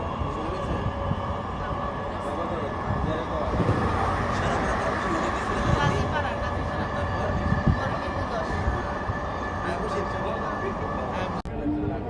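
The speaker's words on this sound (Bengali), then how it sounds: "এই তো মেট্রো রেলে উঠলাম" Steady rumble and hum of a moving metro rail train heard from inside a carriage on the Dhaka line toward Uttara North, continuous and loud throughout with a brief jolt near the end.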